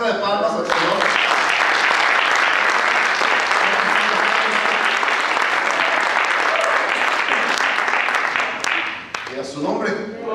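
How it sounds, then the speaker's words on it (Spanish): A church congregation claps for the Lord, a dense, loud burst of applause that fills the room for about eight seconds before thinning out. A voice can be heard briefly at the start and again as the clapping fades. "Demos una ofrenda de palmas al Señor."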